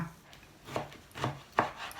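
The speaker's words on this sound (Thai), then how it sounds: "หั่นเผือกนะคะ เตรียมเอาไว้ค่ะ" A knife chops taro on a cutting board with three soft, evenly spaced thuds, quiet and close, with no talking.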